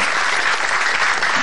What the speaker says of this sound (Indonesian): Kita beri tepuk tangan untuk Arya.